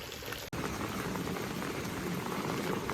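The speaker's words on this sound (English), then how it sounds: "So I'm so happy about this rain." Steady rain falls on a garden yard, a dense close hiss of drops with one brief dropout near the start, otherwise continuous and even.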